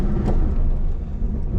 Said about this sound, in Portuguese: Motorzinho refrigerado a ar.